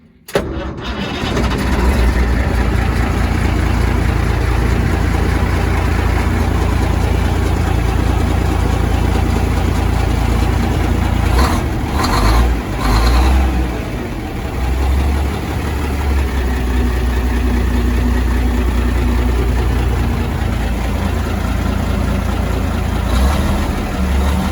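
A 1955 Oshkosh W712 6x6 truck engine catches right away and settles into a loud, steady, rumbling idle that runs without a break, with a few brief clanks partway through.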